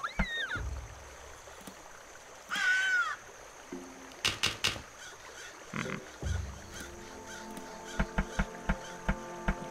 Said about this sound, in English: someone is being attacked by a crow